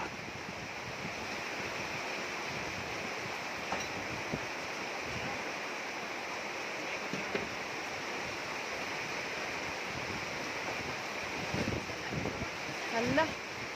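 Strong wind blows steadily at the sea, a constant broad rush with surf mixed in and a few faint voices in the background.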